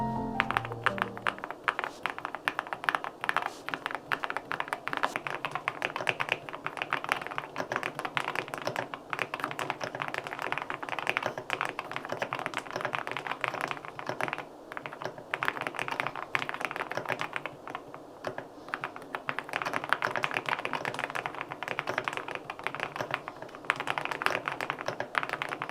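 Continuous typing on a LINK65 mechanical keyboard, with dense, rapid, close keystrokes giving soft, muffled clacks alone for the whole stretch.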